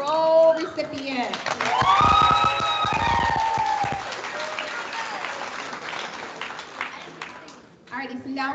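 Audience applause for an honor roll recipient at a 5th grade ceremony, broad clapping with harmonic tones and talk over it at first, fading to a quieter patter later.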